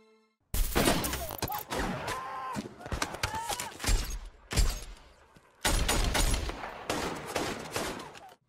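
Movie combat gunfire from Lone Survivor: dense bursts of rifle and machine-gun fire with sharp cracks, impacts and shattering, loud and close, broken by brief pauses, with voices shouting in the mix.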